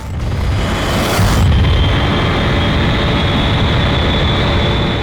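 A missile launch sound effect from a Hindi crime drama: a loud, steady roar with a swelling whoosh near the start, continuing as a dense rumble with a high whine above it.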